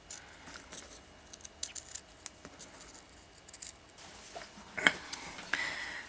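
Small scissors snip through soutache beading backing in quiet, close, scattered cuts, with soft rubbing and handling between them and no talk.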